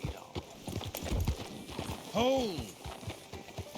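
Horse hooves clip-clop in the Red Dead Redemption 2 video game, a run of close, steady hoofbeats joined midway by a brief horse whinny, with talk over the top.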